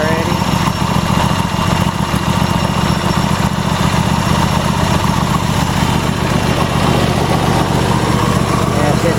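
A Troy-Bilt GTX2654 lawn tractor with a 26-horsepower Intech engine runs loud and close, holding a steady, unbroken rumbling drone.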